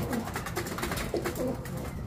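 Racing pigeons coo softly in low, repeated throaty calls, close by, over a busy background hum.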